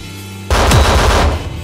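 Sniper rifle fire in the Capsule Wars multiplayer first-person shooter: a sudden loud single gunshot blast with a sustained booming tail, breaking out of quiet game ambience.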